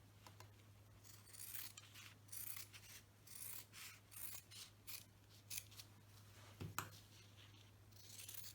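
Scissors snip through homemade fabric for a face mask, a run of quiet rhythmic cuts and rasps spread over several seconds over a steady low hum, with no talking.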